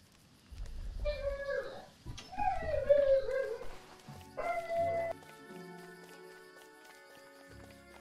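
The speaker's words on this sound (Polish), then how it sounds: "Pies zaczął śpiewać." A dog barks and then lets out long, wavering howl-like yelps, several rising and falling calls at moderate loudness, followed by quieter background sounds.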